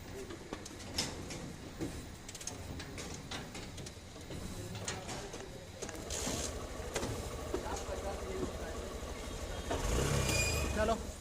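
A motorbike with a weak battery tries to start and stalls, giving rough, uneven mechanical engine noise that grows louder toward the end. A person talks close by throughout.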